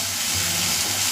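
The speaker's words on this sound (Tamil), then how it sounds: "உப்பு போட்டு நல்லா வெந்து வரட்டும் வெங்காயம்" Onions sautéing with salt in a pan, a soft continuous sizzle and hiss, close and steady over a brief moment.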